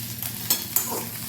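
Okra stirred in a pan with turmeric, Kashmiri chilli powder and salt, a soft steady sizzle with two sharp scraping clinks of the spoon, close and alone with no talk.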